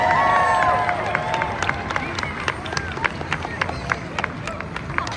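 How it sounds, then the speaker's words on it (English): Crowd at an Independence Day parade in Redwood City cheering and clapping, a broad swell of voices at the start that settles into scattered claps and shouts with an announcer's voice over the top. "Let's give him a good loud cheer."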